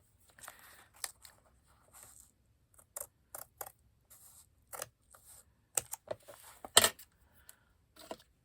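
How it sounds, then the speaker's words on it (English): Scissors snipping craft paper scraps shorter, a series of sharp, close, irregular cuts and clicks separated by quiet gaps. "Okay, we're going to cut these shorter."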